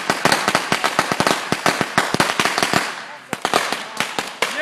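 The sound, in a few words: Black Cat firecrackers going off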